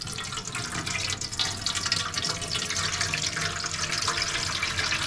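Sugar cane juice poured from a pot through cheesecloth gives a steady splashing, trickling flow close by, continuous for several seconds with no talking.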